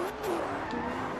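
A fast car in the racing game Forza Horizon 2 accelerates hard with traction control off. Its engine note climbs steadily and loud through a short burst, with a faint squeal of tyres underneath.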